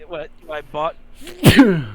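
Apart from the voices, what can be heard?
sneeze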